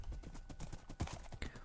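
Quiet, rhythmic clip-clop of horse hooves trotting in Minecraft, a quick run of evenly spaced thuds with a few sharper hits, soft and close.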